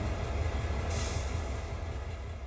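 Train Sim World 2 locomotive auto brake releasing: a steady low rumble of the idling engine under a brief hissing burst of released air around the midpoint, loud and close, with no talk.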